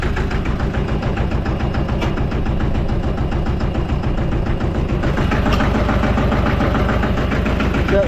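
Old farm tractor engine idling steadily with a loud, continuous low rumble while hitched to a 14-foot hay wagon, a faint knocking rhythm running through it with no talk.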